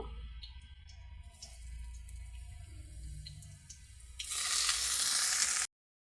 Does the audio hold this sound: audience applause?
no